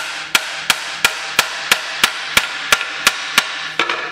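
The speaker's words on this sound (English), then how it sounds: "Make sure your nail gets started into the hole" A nail is hammered into a pre-drilled hole in wood for a horseshoe coat rack: a dozen sharp, evenly spaced hammer strikes in quick rhythm, close and loud, with no talking.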